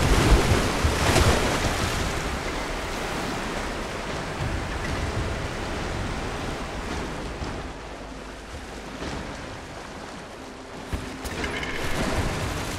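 Strong rushing water current in the video game Rise of the Tomb Raider, a loud continuous surf-like wash with shifting swells and splashes, steady throughout without speech.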